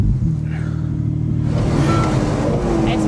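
Ferrari 296 Speciale engine held at constant throttle while the car slides, a loud steady rumbling drone that brightens and rises partway through.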